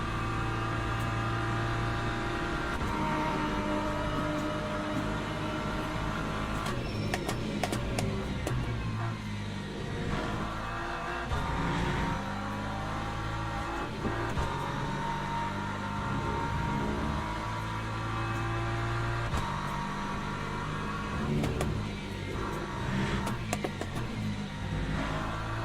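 An LMP2 prototype race car in the sim racing game Le Mans Ultimate roars past amid a dense, steady wash of engine noise and other cars, loud throughout with brief surges as it goes by.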